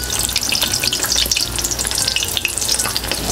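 Batter-coated chili relleno peppers fry in hot oil, a loud, dense, continuous crackling sizzle with rapid popping throughout, close and steady with no talking.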